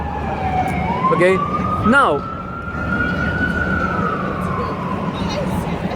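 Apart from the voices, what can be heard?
emergency vehicle siren on a New York street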